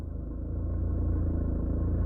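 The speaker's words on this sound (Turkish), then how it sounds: "Bakın şu hafif titreşim bizim için yeterlidir." A car engine idles with a low, steady rumble and slight vibration at the clutch biting point during a hill start, loud and continuous, with no talking.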